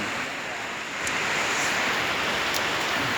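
Steady, loud broadband hiss of heavy rain pouring down during a storm, continuous and close, with no voices over it.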